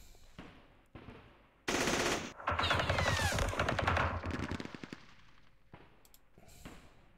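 Artillery fire in the Vietnam war game Campaign Series Vietnam crackles in a loud, dense barrage of rapid blasts lasting a few seconds, after and before quieter scattered shots and game noise.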